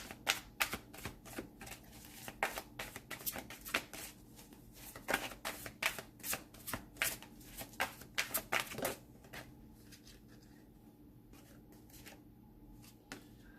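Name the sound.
tarot cards being shuffled and drawn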